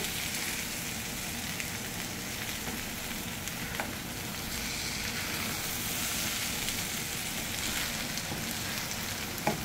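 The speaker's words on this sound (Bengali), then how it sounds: "চাল ডাল মশলার ভিতর দিয়ে আমি মিক্স করছি। এটাকে একটু সুন্দর করে 2-1 মিনিট ভেজে নিতে হবে।" Rice, lentils and spices fry together in a pan for bhuna khichuri, giving a steady, close sizzle with soft stirring scrapes and no pauses throughout.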